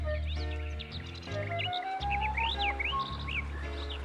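Birds chirp and tweet in varied calls over a sustained musical background, used as a sound effect in an animated children's fable about birds whose eggs were eaten by a snake.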